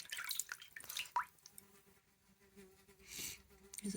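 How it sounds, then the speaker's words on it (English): Housefly buzzing indoors in short, faint bursts that come and go, with scattered light clicks and drips around it. "There's a fly in here."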